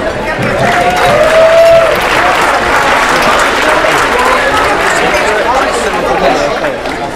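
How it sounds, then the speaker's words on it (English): Sustained applause fills a room at an awards dinner for youth soccer teams, a dense crowd clapping steadily and loudly with murmured chatter underneath. "a round of applause?"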